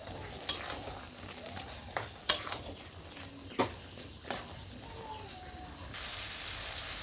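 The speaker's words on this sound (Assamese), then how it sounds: "আৰু এতিয়া মই কচুখিনি ঢাকনি নিদিয়াকৈ ভালকৈ ভাজি ল'ম।" Taro frying uncovered in a pan on a home stove, seasoned with cumin powder: a soft, steady sizzle runs throughout, broken by several sharp clicks and scrapes as the pieces are stirred, with no talking.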